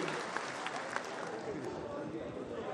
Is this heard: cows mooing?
no